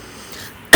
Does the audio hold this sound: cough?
yes